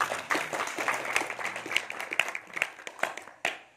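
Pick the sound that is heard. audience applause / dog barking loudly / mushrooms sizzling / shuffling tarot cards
audience applause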